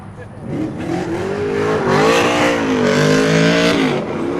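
A Nissan Z drift car revs hard on track, its engine rising and falling through sustained high-pitched pulls with tire noise, loud and close, with someone talking over it.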